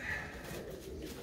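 Pet pigeons kept in a loft cooing softly and continuously, a low murmuring coo close by with faint background noise and no talk.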